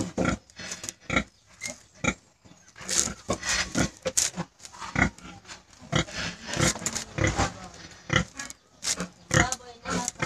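Pigs on a farm during mating of a boar and a sow, with repeated grunts and squeals in uneven bursts, mixed with nearby people talking and calling out throughout.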